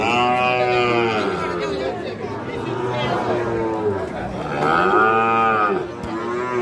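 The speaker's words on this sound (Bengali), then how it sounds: "আজকে কিন্তু মূলত খুব সুন্দর সুন্দর বাছুর উঠছে দর্শক আমবাড়ি হাটে" Sahiwal bull calves at a cattle market in Ambari give two long, loud moos close by, while people chatter and bargain in the background.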